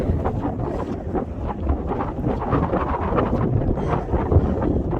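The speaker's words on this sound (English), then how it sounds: "It's very windy." Strong wind buffets the microphone in continuous low rumbling gusts, loud and unbroken, with no voices, on the Cape Cod coast.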